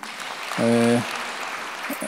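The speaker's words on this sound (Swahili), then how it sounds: "tumahũrĩre makofi." A church congregation applauds during a Sunday Kikuyu service, a steady wash of many hands clapping with a short voiced tone rising briefly above it.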